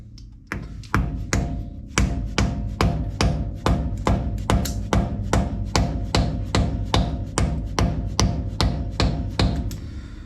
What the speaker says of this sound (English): I'm just using my little dead blow.